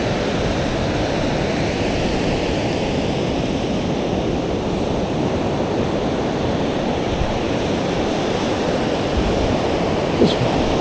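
Surf on a beach roars loud and continuous, waves washing in and out as a broad steady rush with wind noise and no voices.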